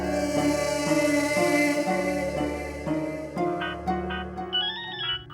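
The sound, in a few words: phone ringing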